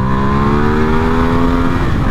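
A Ducati XDiavel S cruiser motorcycle in launch control gives a loud, close engine roar with rising harmonic tones, climbing steadily in pitch as it accelerates hard, with no voices over it.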